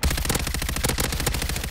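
Rapid automatic gunfire from the video game Warzone Season 6 rattles continuously in dense bursts, loud and close throughout, with no talking over it.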